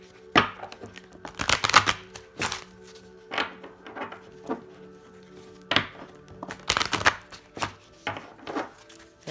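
Oracle cards from a Heal Yourself deck are shuffled three times in quick bursts, each a close, crisp riffle of flicking card edges followed by short soft taps between the shuffles, with no talking.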